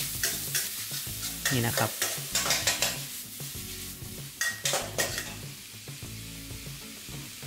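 Minced pork stir-fried in a pan with chopped garlic, giving steady sizzling and frying with repeated sharp scrapes and clinks of a spatula against the pan, close and clear; someone briefly speaks.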